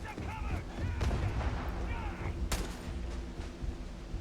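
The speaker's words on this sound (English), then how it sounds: "There's a grenade." A grenade explosion and gunfire in a Skyrim-style fantasy video game, with a few sharp bursts and a loud blast near the middle over a busy, rumbling background of battle noise.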